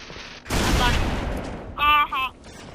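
Sniper rifle fire in the Halo 3 video game: a single loud, sharp shot that decays over about a second, followed by two short bursts of other game sounds, with talk nearby.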